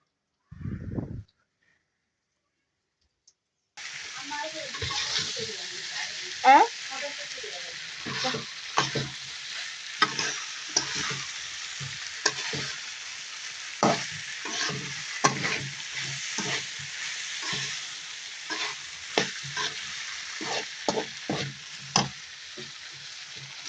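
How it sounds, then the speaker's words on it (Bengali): Chhana (cottage cheese) cooking in a spiced pan, a loud continuous sizzle starting after a brief pause, with frequent sharp scraping and tapping stir strokes, close up and without talk. "দেখুন ছানা সিদ্ধ করতে দিচ্ছি"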